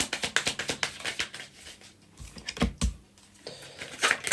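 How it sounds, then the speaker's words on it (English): Tarot cards being shuffled by hand, a rapid series of crisp flicking clicks in bursts with brief pauses between. "we'll just shuffle it in with weird ones in there."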